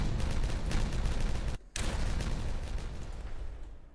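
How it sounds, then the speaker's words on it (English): Dynamite detonating in the building game Timberborn: a dense, loud roar of blasts that cuts out abruptly for a moment, then resumes and slowly fades. "All the dynamite placed down, we can detonate it."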